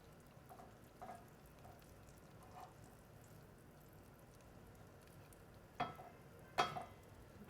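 Food fries in oil in a pan in a café kitchen during breakfast cooking, with a faint continuous sizzle, soft crackles and a couple of sharper clinks near the end.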